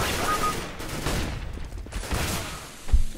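An AK rifle firing in the video game CS:GO, a burst of rapid sharp gunshots mixed with game noise and a heavier thump near the end.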